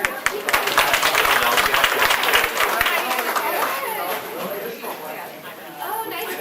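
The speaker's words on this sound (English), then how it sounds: "So Mr. Hurst, please give him a round of applause too." An audience at a high school business meeting applauds, a loud burst of clapping mixed with crowd chatter that fades somewhat toward the end, with talk in the room.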